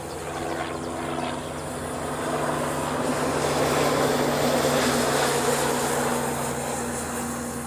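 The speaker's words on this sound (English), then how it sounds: "this is Hawaiian flight 822. It came in from Tokyo." A Hawaiian Airlines airliner, flight 822 arriving from Tokyo, at Honolulu airport, a steady broad jet roar that grows slightly louder mid-pass and then eases, heard alone at moderate distance.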